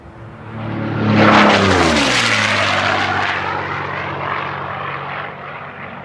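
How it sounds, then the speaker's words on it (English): A P-51 Mustang propeller fighter roars past at the 2022 STIHL National Championship Air Races, its loud engine swelling as it approaches and dropping in pitch as it passes, then fading slowly, with no voices. "That sound, I can just tell there's goosebumps on every viewer at home, all across America and all across the world, listening to that P-51."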